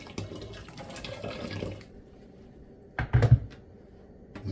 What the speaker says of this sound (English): You see how I sterilize it with hot water, even the cover.